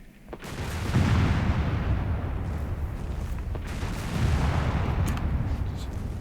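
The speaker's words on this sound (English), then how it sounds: "Somebody's bombarding something, don't know who." Artillery bombardment in the video game Company of Heroes 3, a steady rumbling roll of distant booms and blasts that swells after a quiet start and continues throughout.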